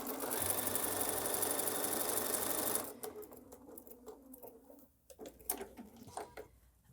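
A sewing machine runs a quarter-inch quilt seam, a steady close whirring stitch for about three seconds that then stops, followed by quieter handling clicks and fabric rustles.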